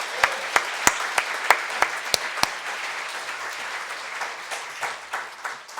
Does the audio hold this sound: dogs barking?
no